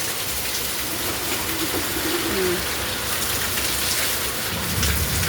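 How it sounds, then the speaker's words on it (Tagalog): Heavy rain pours steadily in Metro Manila during a storm, a constant loud hiss with a low rumble of thunder rolling underneath and a bird calling faintly. "Oh, kumukulog-kulog na siya guys."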